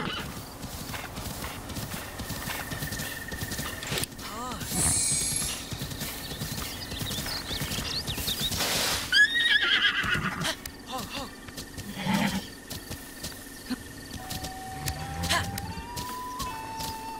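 Horse hooves clip-clop steadily in a video game, with whinnies rising over the rhythmic footfalls and other game sounds layered throughout.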